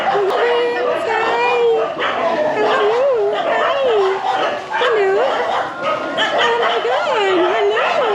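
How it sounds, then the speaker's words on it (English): Many dogs at an animal rescue in Sri Lanka bark, yip and whimper close by in overlapping bursts, a busy chorus of excited high-pitched calls filling the whole stretch. "The sheer amount of dogs that are around here is just absolutely mind-blowing."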